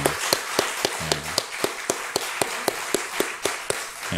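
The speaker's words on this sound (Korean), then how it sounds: "우리 자녀들 축복하면서 우리 함께 박수 함께 했으면 좋겠습니다." During a church service, a congregation claps for the children in a steady, evenly spaced rhythm of sharp claps, close and clear with little else around them.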